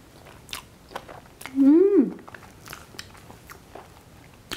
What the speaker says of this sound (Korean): 이것도 너무 크니까 조금 더 잘라서 작은 것을 한번 먹어보도록 하겠어요